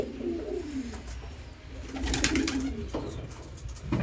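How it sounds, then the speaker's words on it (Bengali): Pure Arsad pigeons in a loft coo softly and repeatedly, their low rolling calls close by, with some rustling and fluttering. "এটা একটা পিওর আরসাদ পায়রা।"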